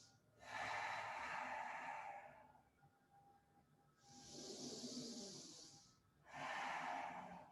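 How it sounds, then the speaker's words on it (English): Slow, deep breaths drawn during a yoga child's pose on a mat, three long loud exhale-like rushes of air separated by quieter intakes, close and alone with no talk. "Take 3 deep breaths in child's pose."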